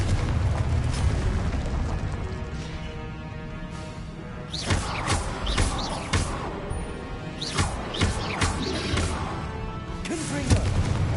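Confringo fire spells explode repeatedly in Hogwarts Legacy combat, a rumbling game soundscape broken by several sharp booming blasts at uneven intervals.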